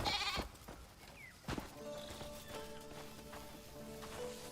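Sheep in the video game Crimson Desert bleat a few times, fairly faint and moderately distant, over quiet ambient game sound with a soft tonal hum and some light thumps.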